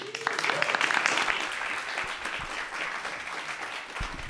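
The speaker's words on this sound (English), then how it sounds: "And now please keep that clapping going for your next speakers" Audience applause in a hall at an evening startup pitch event for offshore wind innovation, dense steady clapping from many hands filling the room, loud and sustained throughout with a voice briefly heard at the start.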